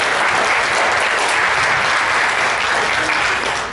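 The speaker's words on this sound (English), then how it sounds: "let's give them a big applause" Audience applause at a rodeo awards lunch, thanking a cattlewomen's group, a dense steady wash of many hands clapping, loud and close, holding for the full stretch before easing slightly at the end.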